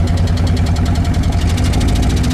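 A 1948 Willys CJ-2A jeep engine runs close and loud with a steady, rough chugging rumble and a fast knocking pulse that holds evenly throughout, with no voices.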